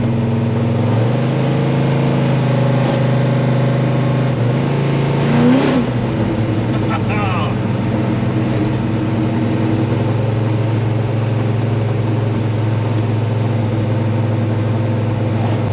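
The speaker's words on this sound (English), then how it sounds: "And the engine is just sounding really happy." A car engine with a tunnel ram intake and two Edelbrock VRS-4150 carburetors idles steadily with a deep, constant hum, briefly rising as it revs around the middle, then settling back to a smooth, even drone.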